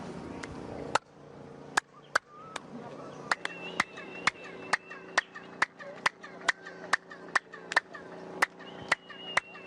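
Hand claps repeat in a steady series outdoors, each sharp crack followed by a springy, metallic boing-like echo that rings back; faint voices murmur between them.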